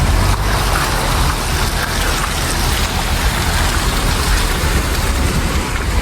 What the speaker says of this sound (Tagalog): Sobrang ano yung lakas ng ragasan ng tubig.